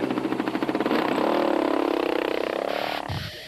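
Motorcycle engines at the 2007 Rustenburg 200 rally race, held at Lichtenburg, roar loudly and steadily. A rising, revving engine note sweeps upward over about three seconds, with no talk.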